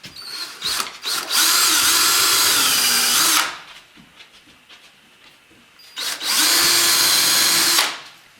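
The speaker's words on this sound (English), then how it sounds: "I'm using a countersinker here" A drill with a countersink bit bores into a wooden floor during a laminate install, two loud sustained whirring bursts of about two and three seconds with a quiet pause between, close by.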